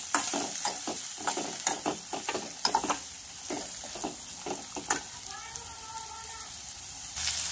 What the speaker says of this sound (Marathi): लाल मिरच्या घालायच्या आहेत 3 ते 4 आणि छान असं आपल्याला फ्राय करून घ्यायचं आहे